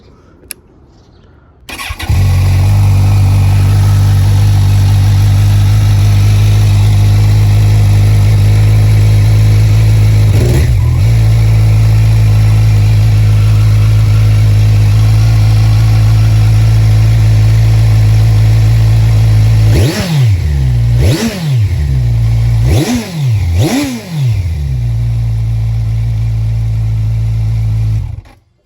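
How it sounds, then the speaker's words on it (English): A 2015 Kawasaki Z1 motorcycle with a Yoshimura R-77 slip-on, stock headers and catalytic converter starts up and idles loudly with a deep, steady rumble, then gives several sharp revs near the end before shutting off. "here is the Yoshi pipe with the stock headers with the catalytic converter"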